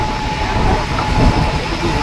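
Interior of a moving Mumbai suburban fast train heading to Karjat, a loud, steady rumble of the carriage with a faint wheel whine and light rattling. No one speaks.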